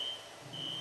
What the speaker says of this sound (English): That is the fire alarm, so I have to cut this one short.